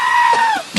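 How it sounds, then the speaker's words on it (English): Pygmy goat bleating once, a wavering, sustained nasal cry close by with a quick fall-off at the end and a faint scuff after. "That's what goat sounds like"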